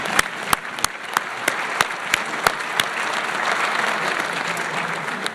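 An audience at an award ceremony in Government House claps steadily. Several sharp, louder individual claps stand out early above the crowd's rustling applause.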